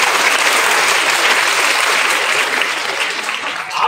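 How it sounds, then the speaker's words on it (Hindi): A hall full of schoolchildren clapping their hands in welcome, a dense, steady burst of many small hands that holds loud and even for a few seconds, easing slightly toward the end, with no voices over it. "आप लोगों को भी जो बीच में बैठे हैं वो तालियां कम बजा रहे हैं, जरा एक बार बजा के अपना स्वागत कर लीजिए"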